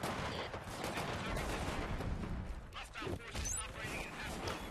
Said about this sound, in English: Looks like he's shooting a guy back there.